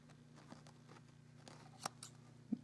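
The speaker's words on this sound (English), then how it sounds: "I'm going to cut that thread really close." Scissors snipping thread close to a fur appliqué after machine stitching, a few quiet, close snips and clicks over a faint steady hum, without talking.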